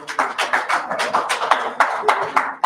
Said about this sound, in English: Can we give DP a round of applause?